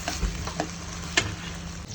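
Onion, tomato, ginger paste and green chilies stirred as they fry in hot oil, with a steady low sizzle under a few scrapes of a spoon against the pan, one sharper clatter midway.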